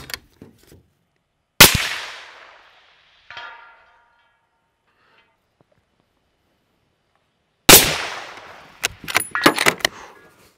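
Sharp .300 Winchester Magnum rifle shots crack out at intervals, a couple of single loud reports followed by a faint metallic ring of target hits, then a rapid cluster of shots near the end.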